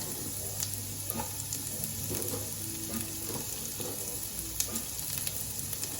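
Shallots frying in butter and sunflower oil for a salmon cream dish make a loud, steady close sizzle and crackle with occasional stirring clinks, and no voices are heard.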